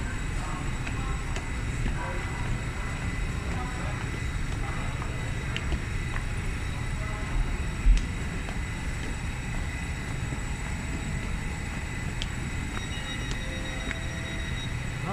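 Low, steady rumble of a large train station hall in Düsseldorf with rolling machinery and wind noise, a short thump midway and faint distant voices.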